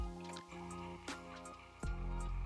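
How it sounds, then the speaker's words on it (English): A Breville Barista Express espresso machine pushing water back into its system gives off a steady low hum with gurgling, dripping liquid sounds that surge in a few swells before rising louder near the end. "So that sound, it's getting that water pushed back into the system"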